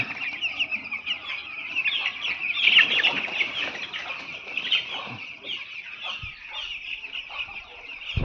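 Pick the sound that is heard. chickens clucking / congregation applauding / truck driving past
chickens clucking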